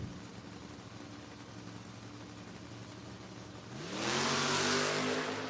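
A Mustang and a Camaro at a footbrake drag race: an engine idles and burbles steadily, then sharply revs and roars into a loud launch near the end, held at full volume.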